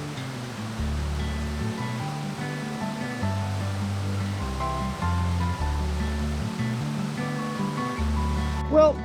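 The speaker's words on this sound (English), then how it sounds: "I can hear the birds chirping and the water gurgling" Steady mountain stream water rushes and gurgles at Sky Pond in Rocky Mountain National Park on an overcast day, a constant close wash of flowing water with no talk.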